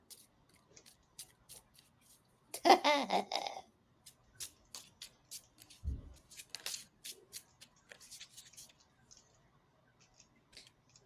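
A deck of tarot cards is shuffled close by in quiet surroundings: one dense riffling burst, then scattered softer flicks and taps of cards being handled, with occasional faint movement between.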